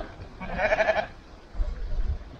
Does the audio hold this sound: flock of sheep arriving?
yes